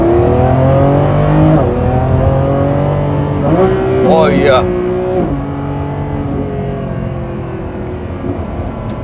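A Lamborghini Revuelto accelerates hard through its gears on the road, its loud engine climbing in pitch and dropping at each shift from inside the car, while someone speaks briefly over the roar.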